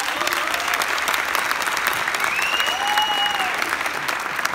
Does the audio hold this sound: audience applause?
yes